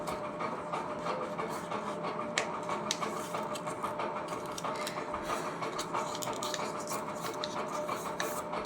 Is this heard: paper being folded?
yes